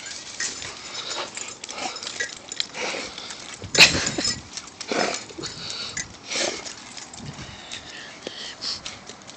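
Excited dog Scooter on a walk, sniffing and snuffling with small whimpers and one sharp yelp-like burst, close by, with quiet talking in the background.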